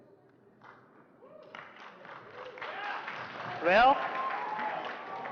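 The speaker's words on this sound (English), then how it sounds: "Just listen to the crowd roar in excitement to see the revolution." A crowd at a console launch event cheers and applauds, the noise swelling from quiet to a loud, sustained roar with a sharp whoop near the peak, while a voice speaks briefly at the start.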